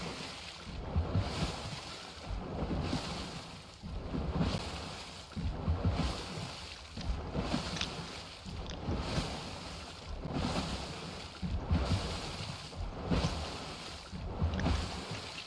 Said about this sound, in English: weird portion where the water just suddenly jumps up